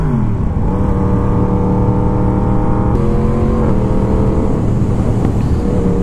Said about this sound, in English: my most favorite thing about this bike is the sound that the 998cc crossplane four-cylinder cranks out